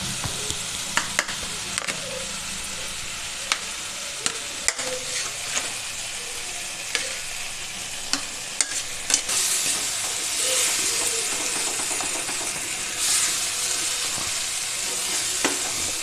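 Eggplant with spices sizzles in a pan as a spoon stirs and mashes it, giving steady frying hiss broken by repeated sharp scraping clicks, close and moderately loud.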